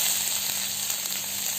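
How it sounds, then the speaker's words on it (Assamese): Spices and ginger-garlic paste fry in a pan for a fish dish with taro, giving a steady, close, loud sizzle that holds evenly throughout with no talking. "তাৰপিছত পাঁচফোৰণ দিয়া হ'ল, তাৰপিছত আদা নহৰু বটা দিয়া হ'ল। এইখিনি প্ৰথমতে ভাজি ল'ব লাগিব।"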